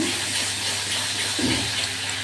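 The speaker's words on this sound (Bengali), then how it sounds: "জল দিতে হবে। জল না দিলে মশলাটা পুড়ে যাবে, একটু জল দিতে হবে। জল দিলাম।" Water is poured into a pan of frying spice paste of garlic, dried red chilli, ginger, Kashmiri chilli powder and turmeric for a rohu fish curry, making a loud, steady hissing sizzle up close with no talking.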